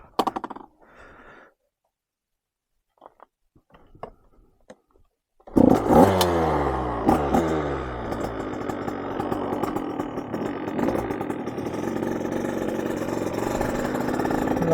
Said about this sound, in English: Time to get a little two-stroke action.